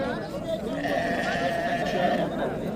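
Sheep bleat at a busy livestock market in Surxondaryo, a drawn-out wavering cry up close, with people talking in the background.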